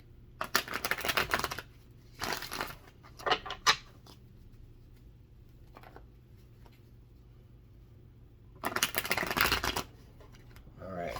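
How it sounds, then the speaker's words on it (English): Bursts of tarot cards being shuffled in quick riffling flurries, close up, with quiet pauses between three or four shuffles. "we're going to get a couple more shuffles"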